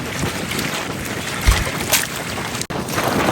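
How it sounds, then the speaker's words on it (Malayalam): A small boat rides rough Atlantic ocean water, with steady broadband wind and splashing noise throughout, a few louder thumps of hull against waves, and a brief dropout near the end. "വെള്ളം കിടന്ന് മറിയുന്നുണ്ട് കേട്ടോ"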